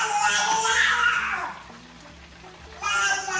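A young child babbles and squeals with high, giggly vocal bursts, fairly close, fading out midway and then returning briefly at the end.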